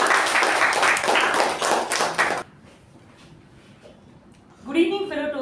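A Toastmasters club meeting audience gives a short burst of dense applause that stops abruptly, followed by a quiet pause and then a speaker beginning to talk.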